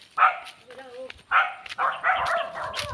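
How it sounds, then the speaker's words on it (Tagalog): A dog barks in short repeated yips and woofs close by, outdoors near a house where goats are kept, with people talking between and over the barks. "May aso."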